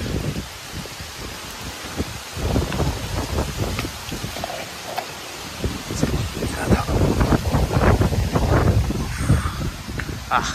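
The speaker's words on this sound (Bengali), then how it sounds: "স্বস্তির হাওয়া সঙ্গে বৃষ্টি, ওয়ান্ডারফুল" Gusty wind rustling through leaves with pattering rain, fluctuating in strength and fairly close, steady throughout with no talking.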